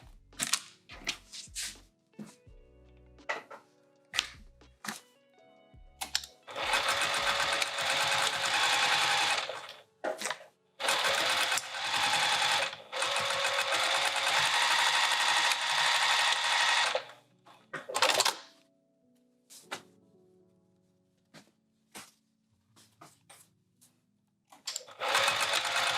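Stitching a piped bag, a sewing machine runs in several bursts of steady close whirring, with long runs broken by pauses, clicks and handling noises between.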